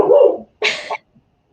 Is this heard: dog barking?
yes